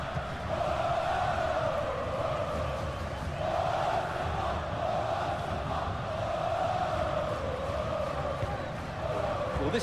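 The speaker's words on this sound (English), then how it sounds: "The crowd certainly think so. Just listen to that noise." Stadium crowd noise in a football video game, a continuous roaring swell of chanting and cheering voices that rises and falls in waves across the whole stretch.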